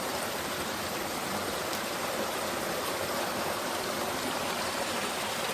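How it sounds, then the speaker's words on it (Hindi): A forest waterfall and stream where drinking water is collected, in a jungle along the Narmada River, giving a dense, constant rushing roar close by with no breaks or voices. "इस झरने के पास से जो है भाई जल भरते हैं पीने के लिए"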